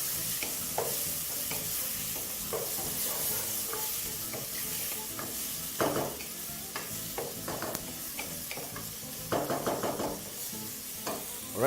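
Mutton stew sizzles steadily in a pot while a utensil stirs through it, giving soft scraping and knocking over a constant frying hiss, close and without talk.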